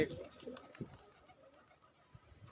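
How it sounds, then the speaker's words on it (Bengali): Domestic pigeons coo softly while coming in to eat food, with low, rounded coos at the start, then fainter murmurs under voices. "কবুতর কিভাবে খাবার খেতে আসে সেটাই আমি আপনাদেরকে দেখাবো"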